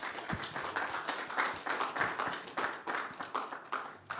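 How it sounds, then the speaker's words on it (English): Applause from an audience welcoming a speaker at a Universal Peace Federation talk, a steady patter of many hands clapping, moderately close, with no talking over it. "please welcome him with a warm round of applause"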